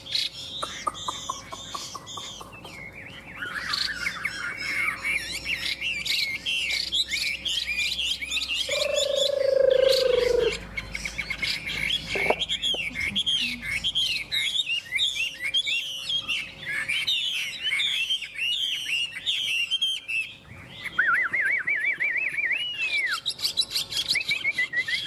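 A Chinese hwamei (họa mi) songbird sings loudly and close up in a continuous, varied stream of rapid trills, slurred whistles and warbling phrases. A brief pause falls near the end before the song resumes.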